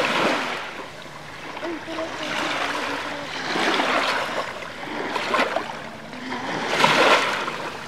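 Ocean waves wash onto a beach in slow, repeated swells, each surge hissing in and fading out, with a voice speaking softly over them.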